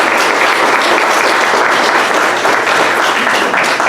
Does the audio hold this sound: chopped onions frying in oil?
no